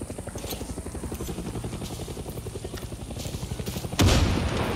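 Helicopter in the video game Far Cry 6, a rapid, steady rotor chop thudding throughout, then a sudden loud explosive boom near the end.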